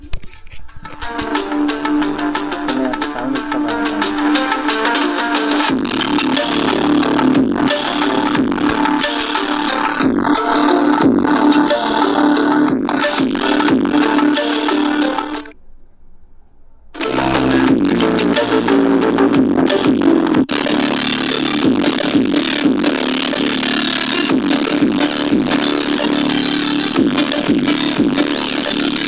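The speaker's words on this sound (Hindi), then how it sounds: "और इसमें मैं यहाँ पे NCS का सॉन्ग प्ले करता हूँ।" An NCS song plays through a homemade mini audio amplifier built around an 882D transistor, loud and continuous, with a brief drop to near silence partway through before the music resumes.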